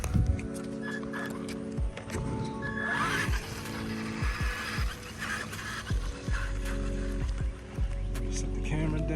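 A Traxxas Bandit RC car on Anaconda front and rear wheels runs outdoors, its electric motor whining in repeated bursts that sweep downward as it speeds past.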